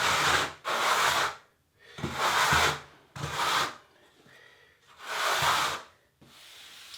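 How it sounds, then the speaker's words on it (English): A float scraping grout diagonally across a ceramic tile bathroom floor gives long rasping strokes, about five close, loud passes separated by short pauses. "So now we're going to just scrape off the grout at a 90-degree angle, diagonally to the tile."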